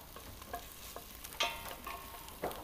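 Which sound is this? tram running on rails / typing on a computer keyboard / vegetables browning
vegetables browning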